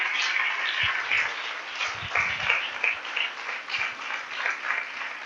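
A church congregation claps continuously in a dense, steady patter at moderate distance, with a few low thumps mixed in and no talk over it.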